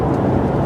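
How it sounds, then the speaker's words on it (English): Interior rumble of a car being driven on a partly sunny Saturday morning, a steady, close engine and road drone filling the brief moment. "enjoy driving my car"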